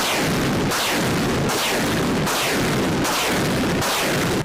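Artillery guns fire a volley: about six loud, evenly spaced blasts, each with a rolling echo, close and powerful.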